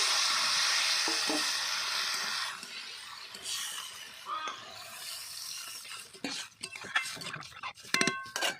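Water poured into a pan of fried, spiced potato masala sets off a loud hissing sizzle that gradually dies down, followed by scraping and clinking of a utensil against the pan.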